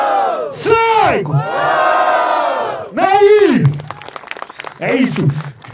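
Crowd at a subway rap battle erupting in loud cheering and rhythmic chanting shouts, rising in waves and swelling again, close and boisterous, with a couple of short breaks between bursts.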